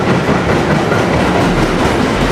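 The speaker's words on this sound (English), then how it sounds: "My bad, this is a freight train." A freight train rolls past on the rails nearby, a loud, continuous rumble with rattling wheel noise filling the whole stretch.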